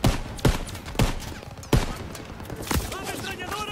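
Bursts of machine gun fire crack out in Call of Duty WWII, several sharp loud volleys spaced about half a second to a second apart, with battle noise and voices underneath.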